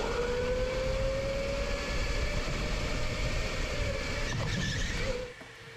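Go-karts run flat out down a long straightaway in a Boost League karting race at K1 Speed Canton. A loud, steady engine whine climbs slowly in pitch and holds until it drops off sharply just before the end.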